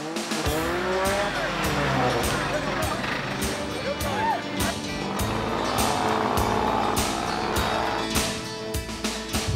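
A 1978 Jeep CJ7 on 35-inch Super Swamper tires with a front winch revs and churns through a mudbog, engine roaring loud and continuous with surging pitch and tire spin, a crowd and voices audible beneath.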